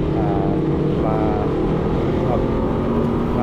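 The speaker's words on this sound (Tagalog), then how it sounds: "dito may nakasabayan akong big bike, yan yung naririnig nyo. Grabe ang bilis ng takbo." A fast big-bike motorcycle passes on the C5 road, under a loud, constant engine and road roar heard from a moving vehicle.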